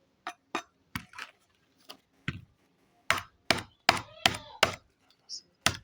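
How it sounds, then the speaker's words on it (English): A fresh coconut is struck repeatedly on a farm in Nigeria, giving a series of sharp, hard knocks in an uneven rhythm, sparse at first and then coming in a quicker cluster, close and fairly loud with no talking. "So now I'm beating the second coconut."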